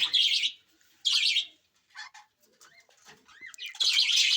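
Pet birds in a home aviary, including a breeding pair, chirp in loud bursts close by, with short quieter calls and gaps between the louder phrases.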